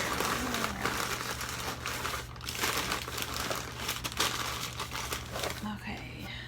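Packing paper is crumpled and crinkled by hand while wrapping eBay items for shipment, a close, continuous papery rustle with brief louder crunches, and a voice talks over it in places.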